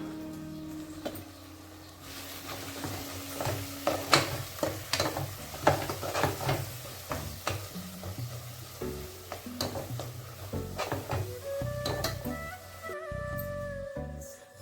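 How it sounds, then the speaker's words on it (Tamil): Curry masala being stirred in a pan while cooking goat head curry gravy, with repeated scraping strokes and a soft sizzle underneath, close and fairly loud, a low hum toward the end. "கொஞ்சமாக கறி மசாலா, போட்டுட்டு நல்லா கிண்டி விட்டுக்கலாம்."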